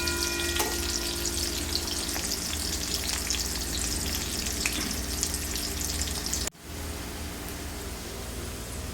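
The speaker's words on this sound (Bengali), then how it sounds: "তারপরে এতে আমি দিয়ে দিচ্ছি কেটে রাখা কুচনো পেঁয়াজ ও তেজপাতা।" Chopped onion and bay leaf frying in a pan, a loud, dense, unbroken sizzle close up that cuts out sharply for an instant near the end, then resumes slightly quieter; no voices.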